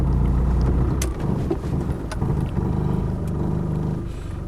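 A Land Rover 110 station wagon's 200TDi diesel engine idles steadily nearby, a low continuous rumble with a few faint clicks and knocks on top and no talking.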